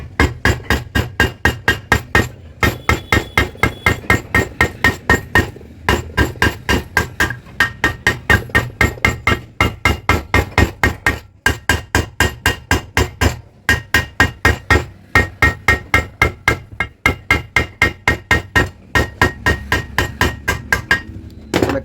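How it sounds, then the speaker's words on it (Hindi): A hammer strikes a pressure cooker lid set on a metal die plate, working evenly around it in long runs of sharp, ringing metallic blows, close and loud, with brief pauses between rounds. "पहले हम 1 राउंड 2 राउंड चारों तरफ इसको हथौड़ी से बराबर चोट मार लेते हैं।"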